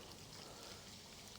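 Mineral water pours into a shashlik meat marinade, a brief steady trickling splash at low level, alone without talk.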